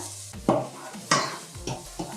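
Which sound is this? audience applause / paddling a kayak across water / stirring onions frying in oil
stirring onions frying in oil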